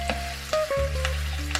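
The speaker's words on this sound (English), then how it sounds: "Fry these vegetables for a while." Ginger, onion, scallion and coriander fry in hot oil with a steady close sizzle. A few soft clicks of stirring land over the top, with no one speaking.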